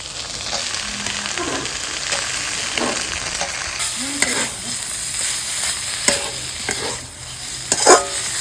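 Potatoes are stirred and fried in oil in a pan for a Bengali curry, giving a continuous sizzle. A spatula scrapes and knocks against the pan in irregular strokes, close and fairly loud, with no talk.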